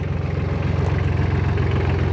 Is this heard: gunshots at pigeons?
no